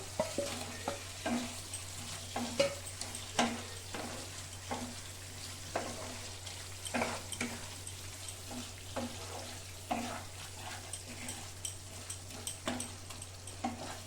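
Pointed gourd pieces tossed into oil with fried spices: a steady, fairly quiet sizzle runs throughout, punctuated by repeated scrapes and knocks of a spoon stirring in the pan, with no speech.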